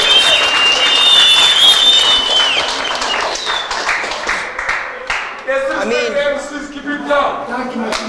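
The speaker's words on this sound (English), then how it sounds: "Cheer!" At a rap battle, a crowd bursts into loud, sustained applause and cheering with whistles, thinning toward the end as voices and shouts come through.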